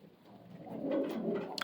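A Giant Homer pigeon in a loft gives one low, soft, rolling coo that swells and fades over a second or so, close and fairly quiet.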